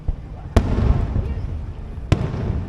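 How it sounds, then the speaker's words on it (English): Fireworks go off in front of a marina, with two sharp nearby bangs standing out over a constant crackling rumble and people talking. "Big fireworks display right in front of us."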